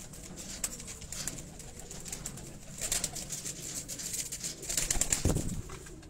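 Shahjor breed pigeons on a rooftop, soft low cooing and brief wing flutters over steady outdoor background noise, fairly faint and close.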